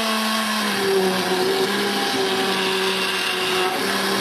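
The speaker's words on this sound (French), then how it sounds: "On va donc pouvoir mixer maintenant." A blender purées cooked leek and potato soup with a loud, steady motor whir that holds an even pitch, close up and uninterrupted for a few seconds.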